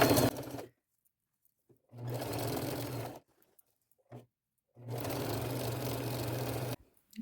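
A sewing machine runs a zigzag stitch along lace in two long steady bursts, with a short burst before them and silent pauses between, loud and close with no voices.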